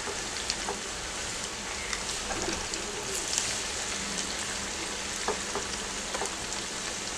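Cauliflower and potato pakodas frying in oil over a low-to-medium gas flame, a continuous dense crackling sizzle with small pops, steady and close.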